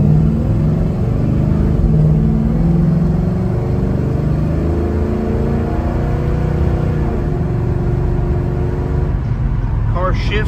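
A 1967 Chevrolet Chevelle engine revs up steadily under a voice, pitch climbing and dropping as the car accelerates through gears, close and continuous.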